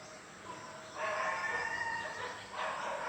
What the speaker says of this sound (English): Birds produce different types of cries,